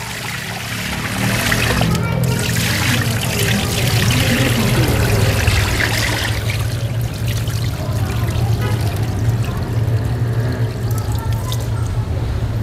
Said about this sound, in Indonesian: ini bilasan ketiga